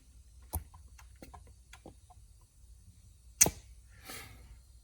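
A hand vacuum pump gives a few sparse, quiet clicks spaced irregularly against a low hum, applying vacuum to a 2004 Ford F-150 4x4 solenoid, followed by a sharper click and a faint hiss.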